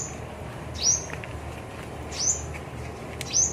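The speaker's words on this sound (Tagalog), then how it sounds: "Birdie tweet." Birds at a garden resort give three short, high chirps spaced about a second apart over a faint, steady outdoor background.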